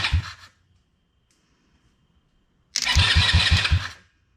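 A Chinese ATV's starter cranks the engine during a solenoid bypass test, in two bursts: a short one at the start, then a longer, louder crank of about a second and a half with a rhythmic chugging pulse.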